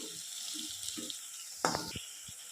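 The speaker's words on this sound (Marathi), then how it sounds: "आता याला एक अर्धा मिनिट परतून घेतो आहे" Chicken masala with garlic sizzles softly in a hot pan while being stirred, a faint continuous hiss broken by a brief louder scrape-and-sizzle burst midway and a few light knocks.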